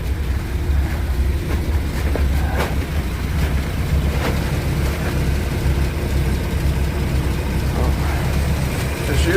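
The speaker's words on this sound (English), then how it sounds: "Of course you can hear that exhaust leak." A 1957 Chevrolet 210 engine idles close by with a low, rough rumble and irregular puffing, ticking sounds from an exhaust leak.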